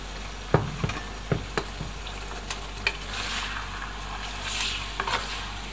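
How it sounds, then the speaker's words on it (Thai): Pork belly stir-fries with fish sauce in a pan, producing a soft continuous sizzle broken by several sharp spatula knocks and scrapes against the pan, heard up close with no talking. "ทีนี้เราก็ผัดไปเรื่อยๆนะครับผัดให้น้ำมันใสแล้วก็หมูเปลี่ยนสีเป็นแบบสุกนะครับ"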